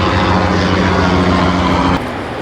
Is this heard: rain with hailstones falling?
no